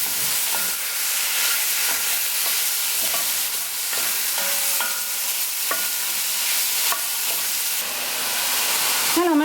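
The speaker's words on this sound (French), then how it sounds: "rajouter mon bœuf, du paprika. Et là, il faut dorer la viande sur toutes ses faces." Beef seasoned with paprika browns in a hot pan, a loud, steady sizzle and hiss with stirring scrapes throughout, close and continuous with no talking.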